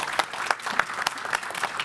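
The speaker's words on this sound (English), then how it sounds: "also a big round of applause for our technique today" Indoor audience clapping for the technical crew at an art-in-education event at TU Delft, a steady, dense round of hand claps throughout with no talking.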